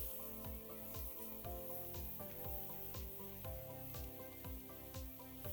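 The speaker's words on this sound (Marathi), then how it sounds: "कॉर्न मोठ्या फ्लेमवरती परतून घेऊया." Corn kernels roast in butter over a high flame with a faint, continuous sizzle, marked by a regular series of soft scraping stirs, about two each second.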